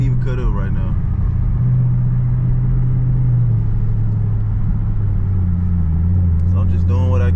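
Camaro SS engine rumbling steadily from inside the car as it drives through city streets and onto the highway, a deep continuous low drone with slight pitch shifts as it pulls, with a voice talking briefly over it.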